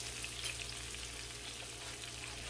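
Shrimp sizzle in a hot pan for fettuccine alfredo, a steady, fairly quiet frying hiss throughout with a few faint crackles and pops early on.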